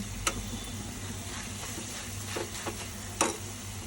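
A tempering of dried red chillies, chana dal, garlic cloves and curry leaves crackles in hot oil for gongura pickle, a steady low sizzle punctuated by a few brief ticks and pops.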